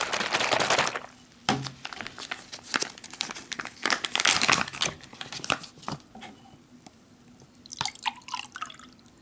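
An MRE drink mix bag partly filled with water is shaken, producing close sloshing and crinkling plastic in irregular bursts, with quieter pauses between shakes.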